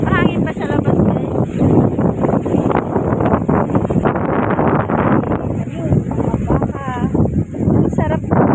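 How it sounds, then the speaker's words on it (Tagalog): Strong wind buffets the microphone outdoors at a vegetable stand in Cavite, a steady low roar and rumble running throughout beneath continuous talking. "Lakas ng hangin guys."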